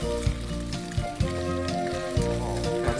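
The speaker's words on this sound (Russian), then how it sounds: "Обжарим креветки, да." Shrimp fry in hot oil in a preheated pan for a Chinese dish, giving a steady, loud sizzle with crackling pops and a few soft stirring thumps throughout.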